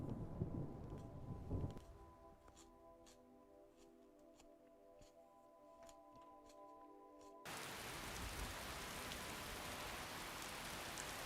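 In the video game Skyrim, rain and thunder give a dull rumble at first, then a steady rain hiss that swells to a loud, continuous wash near the end, with ticking sounds layered in the middle.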